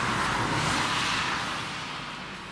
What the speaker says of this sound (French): T'as des voitures qui passent en face.